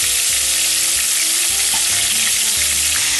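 Oil hisses and crackles steadily with a dense, close sizzle of meatballs frying in a pan, with faint low clinks underneath.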